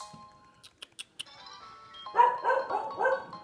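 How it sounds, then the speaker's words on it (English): A dog barks several times at close range during a Pokémon shiny-hunting stream. The barks come in a loose burst near the end, after a few sharp clicks and soft chimes from the game. "I don't even know why the fuck dog is barking."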